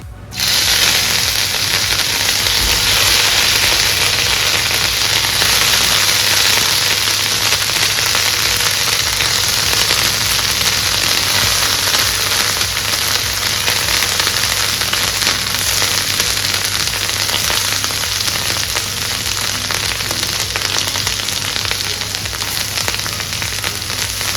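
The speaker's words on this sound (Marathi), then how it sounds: "तेल छान गरम झाल्यानंतर ह्यामध्ये एक एक बोंबील सोडून फ्राय करून घ्यायचे आहे" Dried Bombay duck (bombil) fries in hot oil in a pan, giving a loud, steady, dense crackling sizzle that runs unbroken throughout with no voices.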